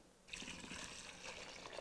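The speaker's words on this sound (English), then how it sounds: "At this point, we're gonna add the water" Hot water poured by hand onto fresh mozzarella cheese curds, a soft continuous trickle and splash starting after a brief quiet moment and running steadily, fairly faint and close.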